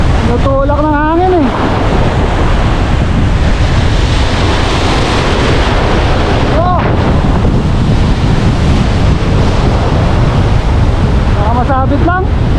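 Strong storm wind roaring over the microphone with waves crashing at sea during a fishing trip, loud and constant throughout, with a few faint voices briefly audible.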